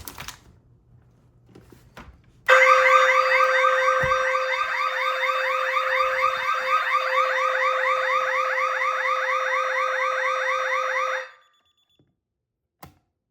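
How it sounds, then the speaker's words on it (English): A DSC Neo security panel goes into instant alarm when a perimeter window is opened, a loud, steady electronic warble with a rapid pulsing pattern that sounds alone for about nine seconds and then cuts off abruptly. "The panel has went into an instant alarm because the window is set as perimeter."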